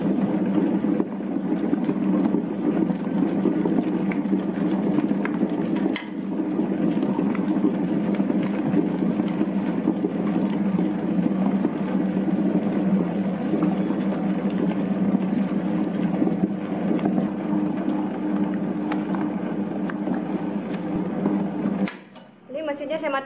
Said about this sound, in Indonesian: Lanjut kita nyalakan mesinnya. Ini kita adon sekitar 10-15 menit sampai betul-betul kalis.